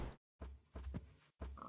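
Pigs in the video game Minecraft oink in three short, close grunting bursts separated by brief silences, fairly quiet and with no talking over them.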